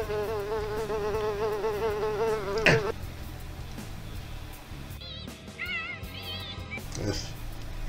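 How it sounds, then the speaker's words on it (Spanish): A housefly buzzes in a steady, close whine with wavering pitch, cut off by a sharp slap, then a brief higher buzzing resumes faintly before fading; no one speaks. "Fuera, una mosca sin importancia."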